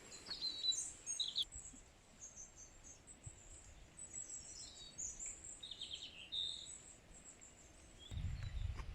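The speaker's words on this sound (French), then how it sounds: "on entend les oiseaux" Small birds sing in short, high, scattered chirps and trills beside a lake, fairly distant and soft over a steady low outdoor hiss, with a brief rustling thump near the end.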